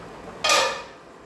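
A cooking-pot lid lifted open during chicken biryani preparation, giving one short metallic scrape and rattle that rings briefly and fades, close and alone.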